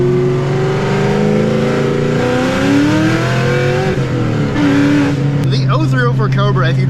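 A 2003–04 Ford Terminator Cobra accelerates hard nearby, its engine note rising loud and strong through a gear change, with a brief squeal of tires struggling for grip near the end.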